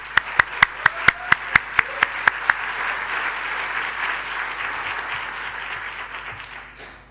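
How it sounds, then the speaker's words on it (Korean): Audience applause at a church gathering, opening with a rhythmic run of sharp, evenly spaced claps in unison that gives way to a steady wash of scattered clapping slowly fading toward the end. "한번 박수 한번 드리시겠습니다."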